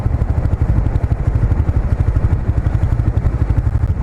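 A motorcycle rides down a street, its engine droning loud and steady up close with a rapid, even pulsing throb and no break for the whole stretch.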